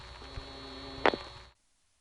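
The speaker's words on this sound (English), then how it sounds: "that is the sound that the most exotic switches I have ever encountered in my life make whenever they set up a connection" Exotic Siemens motor switch at a 1978 Florida telephone exchange setting up a call connection, a brief burst of clattering relay motion near the middle, heard over a steady background hum and traffic noise before cutting to silence.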